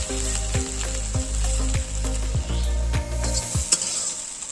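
Drumsticks (sajna data) fry with spices and onion paste in a pan, giving a loud, steady sizzle broken by regular scraping stirs about every half second.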